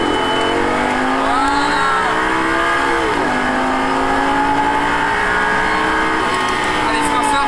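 A Lamborghini Gallardo accelerates hard at full throttle on a track, the engine's loud, rising whine shifting pitch as it climbs through the revs, while an instructor speaks over it.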